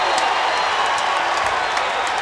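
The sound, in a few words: basketball crowd cheering Indiana's first lead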